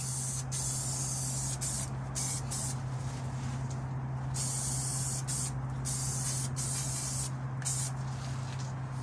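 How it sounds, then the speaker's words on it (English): Etch primer sprayed from an aerosol can onto freshly welded metal on a corroded trailer spring hanger, a steady continuous hiss lasting throughout with brief pauses in intensity, close and fairly loud with no talking. "get a bit of etch primer on and then nip this spring pin up"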